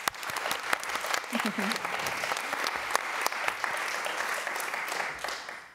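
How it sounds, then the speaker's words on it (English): Sustained round of applause from an audience at a talk event at Pakhuis, dense clapping throughout at moderate level, with a brief voice rising through it early on, fading near the end. "Round of applause"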